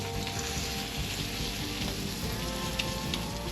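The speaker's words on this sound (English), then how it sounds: "I haven't skillet cooked them like this in a while" Florida crab patties fry in oil in a skillet, giving a steady close crackle and sizzle with no one talking.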